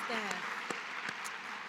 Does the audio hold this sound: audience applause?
yes